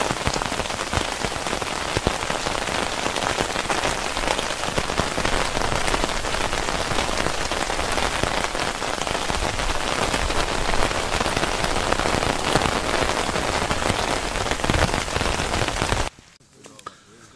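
Steady heavy rain drums on a tent during wild camping, a dense continuous patter close overhead that runs unbroken before cutting off abruptly near the end.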